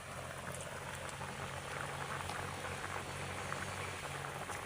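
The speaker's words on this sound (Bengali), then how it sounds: "বলক চলে আসছে" Taki fish curry with radish and eggplant boiling in a pot over a rural home stove, a steady low bubbling and gentle simmer, faint and continuous with no voices.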